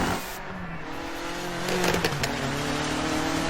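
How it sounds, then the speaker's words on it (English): Rally car engines, a Mitsubishi Evo and a Subaru, drone and rev in a racing setting, with engine tones rising and shifting as the cars approach and a brief tire squeal. "They even got the Evo sound versus the Subaru sound nailed perfectly."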